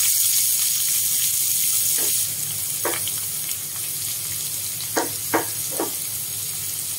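Sliced onion with mustard seeds and curry leaves sizzles in hot oil for padavalanga thoran, a steady hiss that softens after a couple of seconds, with a few sharp clinks of a utensil close by.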